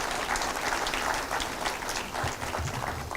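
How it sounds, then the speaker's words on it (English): Conference audience applauding at the RCMRD RIC 2022 event, dense sustained clapping from a large crowd heard at moderate distance, steady throughout with no talk. "So give ourselves a round of applause."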